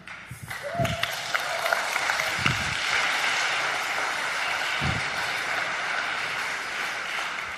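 A church congregation breaks into sustained applause during a Sunday sermon, a dense, even wash of clapping that swells in the first second and holds steady throughout, with a few brief voices underneath.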